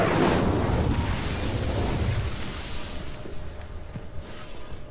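An Incendio fire spell cast in a video game, a loud whooshing fiery burst that swells at once and then slowly fades into a rumbling crackle over several seconds.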